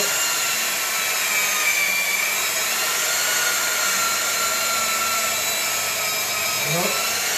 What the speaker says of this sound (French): Alors je prends celle-là parce que c'est une disqueuse.